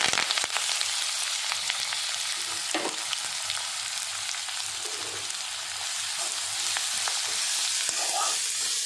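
Onion, curry leaves and fennel seeds frying in oil in a pan for a prawn pepper fry, a steady soft sizzle with occasional light stirring clicks, close and moderately quiet, with no talking.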